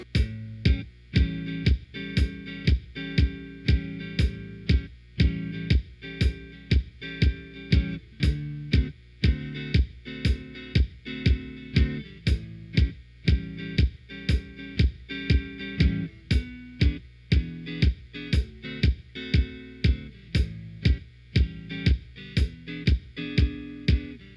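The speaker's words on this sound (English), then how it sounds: "That's the 12-bar blues using a 1-4-5 progression, using all dominant chords." A looping electric guitar 12-bar blues with a 1-4-5 progression of dominant chords, steady strummed chords on a regular beat, repeating evenly and played alone with no voices.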